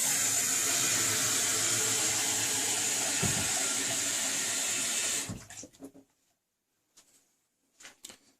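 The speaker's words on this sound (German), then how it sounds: "machen da warmes Wasser schon mal rein." Warm tap water runs steadily and loudly into a cooking pot for about five seconds, then cuts off, followed by a few faint clinks and handling noises as the pot is moved.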